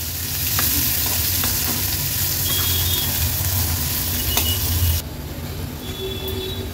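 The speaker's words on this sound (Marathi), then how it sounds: "लो फ्लेमवरच आपल्याला कांदा व्यवस्थित शिजवून घ्यायचा आहे" Onion with crushed ginger-garlic fries on a low flame, a close, steady sizzle with stirring scrapes that drops noticeably quieter near the end.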